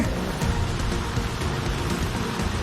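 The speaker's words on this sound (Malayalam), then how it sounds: "വലിയ മഴയും പെയ്യുന്നുണ്ട്" Heavy rain pours down on a pothole-damaged road at Valapattanam in Kannur, a dense steady hiss of water that fills the scene without a break.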